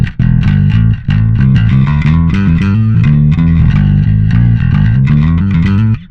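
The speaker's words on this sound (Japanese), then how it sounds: "歪ませて常に張り付くような音を初めに作ってから、さらに歪みで追い打ちをかける" Bass guitar through a Zoom MS-60B+ multi-stomp, distorted first and then hit with a second stacked distortion, playing a loud, dense, compressed riff with steady repeated notes and brief breaks, alone without talk.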